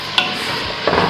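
Lamb curry is stirred in a pan. Two clear, close scrapes of a utensil sound over a steady background sizzle.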